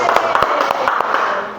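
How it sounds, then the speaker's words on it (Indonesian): A group claps for a participant at an indoor training session: a short burst of scattered, close hand claps mixed with voices. "Tepuk tangan dulu dong buat Pak Nurul."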